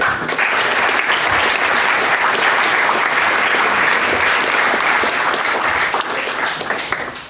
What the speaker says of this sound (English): So you should give them a round of applause.